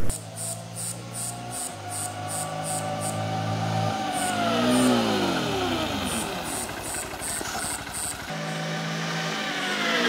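A Honda XRE 190 ABS motorcycle under braking tests runs at a steady mid-pitched idle, then revs up and rises and falls in pitch as it accelerates and slows, and finally settles back to idle. The engine is close and moderately loud, with no voices.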